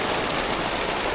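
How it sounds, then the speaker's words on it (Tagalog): Heavy rain pours down steadily, a dense, loud, unbroken hiss of drops pattering on surfaces close by, with no voices over it. "Tumulo na ang malakas na ulan"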